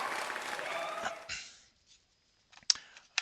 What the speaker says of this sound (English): Thank you kindly for the applause, Chan.